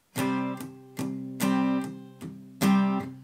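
An acoustic guitar strums a repeating long-short-short rhythm, six crisp strums ringing close and clear with no voices.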